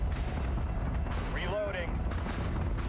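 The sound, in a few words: flak cannon fire in Battlestar Galactica: Deadlock video game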